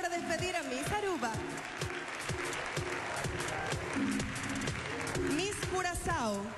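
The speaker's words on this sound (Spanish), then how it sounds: "aplauso para despedir a Miss Aruba." Audience applause for Miss Aruba, a finalist at the Reina Hispanoamericana 2015 pageant, a steady wash of clapping under music and a host's voice talking throughout.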